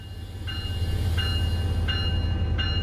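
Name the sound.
Metrolink F125 locomotive powering up in video game Train Sim World 5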